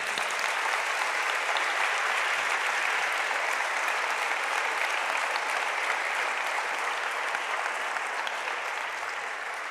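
Sustained applause from a church congregation during a sermon, a dense, even wash of clapping that holds steady and loud for the full stretch with no talk over it.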